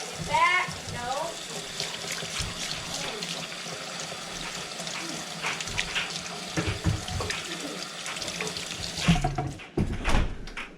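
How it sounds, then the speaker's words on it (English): A kitchen sink tap runs steadily while hands are washed beneath it, the splashing water shifting as the hands move, with someone talking over it and the flow stopping near the end. "Go ahead and wash my hands"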